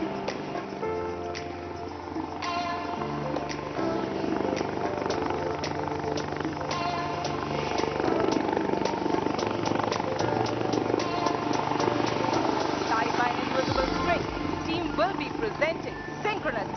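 Aircraft engines drone continuously during an aerobatic flying display at Aero India, a broad steady roar mixed with music and a public-address announcer talking over it.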